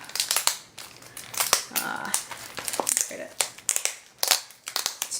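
A plastic Ziploc bag holding craft supplies is crinkled and crushed as it is opened, with loud, irregular crackling close by, interrupted by short pauses.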